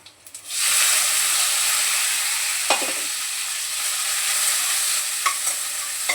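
Curry leaves and sliced onion hit hot oil in a pan with a sudden loud sizzle that keeps frying steadily, with a few close scrapes and knocks from the spoon stirring.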